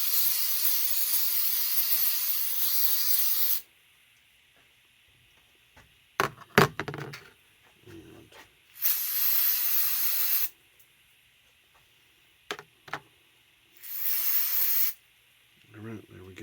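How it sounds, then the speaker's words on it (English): Brake parts cleaner hisses from an aerosol can in three strong, sustained bursts, close by, with clicks and handling clatter between the sprays. "use a little brake parts cleaner"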